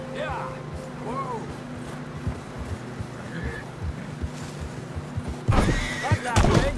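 Horse in the Red Dead Redemption 2 video game by a river, giving a brief whinny over wind and hoof noise, with a louder splashing surge near the end and voices talking.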